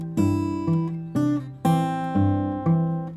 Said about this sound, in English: that's the melody over the first C.